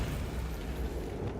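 A Bombarda explosion spell goes off in Hogwarts Legacy, a loud, sustained, deep booming rumble that fills the whole moment with no talk over it.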